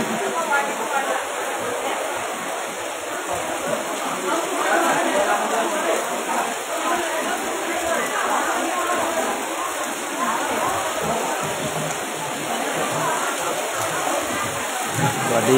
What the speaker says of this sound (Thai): ฝนตกนะฮะหนักมากนะครับนี่ฝนตกหนักมาก